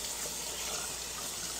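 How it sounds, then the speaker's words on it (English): Tap water runs in a steady, close hiss as a Tilley wide-brimmed hat is rinsed of soap under the faucet, with no voices. "Rinse it out real well."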